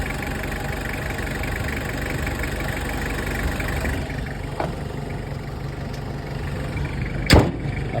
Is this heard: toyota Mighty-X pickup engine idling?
yes